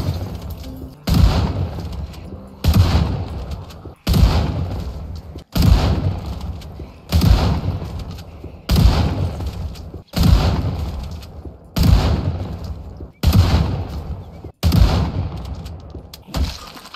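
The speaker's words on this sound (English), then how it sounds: "Let's get the shotgun out, you know." Shotgun blasts in the zombie survival game Project Zomboid fire at a steady pace, about ten loud booming shots each roughly every one and a half seconds, each followed by a short decaying tail.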